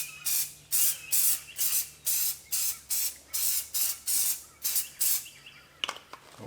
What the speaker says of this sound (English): This is just some Loctite spray adhesive.